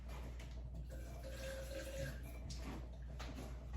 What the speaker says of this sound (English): I'm just gonna add a little bit of water and then add a splash of lemon juice.